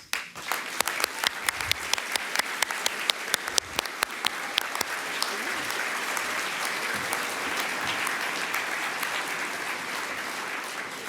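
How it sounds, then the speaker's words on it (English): Scattered sharp individual claps build into a full, sustained round of applause from guests at a corporate awards and recognition dinner, the crowd's clapping thickening after about four seconds and staying loud and even. "let us give you a big CoreNet Global round of applause"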